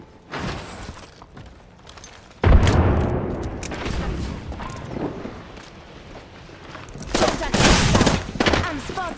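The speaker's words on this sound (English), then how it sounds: "I am taking fire, friends." Gunfire in Apex Legends on Xbox Series S erupts in loud bursts of rapid shots and booms, a heavy volley at mid-clip and another cluster near the end, with in-game voice lines underneath.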